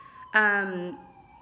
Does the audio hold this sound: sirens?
yes